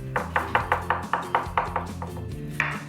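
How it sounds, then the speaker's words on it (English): A knife chops cilantro finely on a cutting board in a steady series of about a dozen quick, crisp taps, close and clear with no talking. "So my cilantro, I'm just gonna cut into really fine, tiny pieces"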